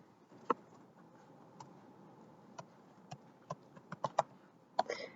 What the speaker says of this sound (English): here I'm just hitting my enter key to go down to the next cell